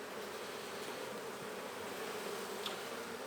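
Honey bees buzzing around an open-air hive with frames full of honey, a soft continuous hum of many insects at moderate distance, steady throughout with no voices.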